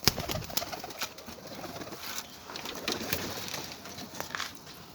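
Pigeons cooing in a loft, including a young pale-marked bird just learning to fly, soft repeated coos with scattered rustles and light movement noises, moderately near and without talk.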